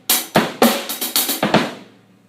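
A drum fill played on hi-hat and kick drum: about eight sharp, evenly spaced hits with bright cymbal sizzle over low thumps, close and loud, ringing out at the end.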